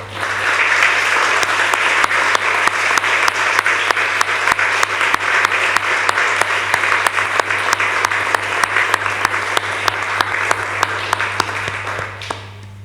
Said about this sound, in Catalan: potser estaria bé que ens feu un fort aplaudiment a tots els consellers i conselleres